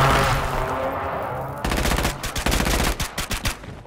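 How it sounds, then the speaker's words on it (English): Rapid gunfire from a video game shootout on a rooftop mission, dense bursts of automatic shots crackling close and loud, growing sharper and more staccato in the second half. "they're shooting each other"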